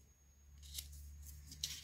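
Scissors snipping through paper while making a spring journal, two short crisp cuts close by over a low steady background hum.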